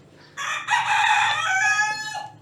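A rooster crows in one long, loud, close cock-a-doodle-doo lasting about two seconds, heard alone without talk.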